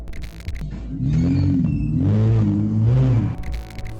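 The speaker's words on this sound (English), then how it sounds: "The footage ends with the sound of his tires screeching as they speed off into the night" A car speeds off at night, its tires screeching under a rising, wavering engine whine that holds loud for a few seconds before easing off.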